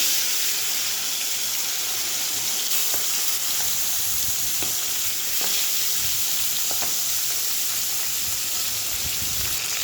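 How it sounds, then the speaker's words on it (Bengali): Fish fry in hot oil with a loud, continuous, dense sizzle lasting throughout, joined by a few faint scrapes. "এই দেখো তেল গরম হয়ে গেছে, মাছগুলো ভেজে নেব।"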